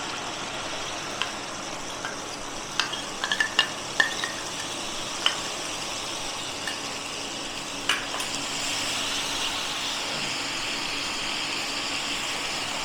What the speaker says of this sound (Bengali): আবার বাটার দেবো, বাটারটা দিয়ে দিলাম। এই যে মশলাটা বাইরে রেখে দিয়েছি ওটা দিয়ে দেবো।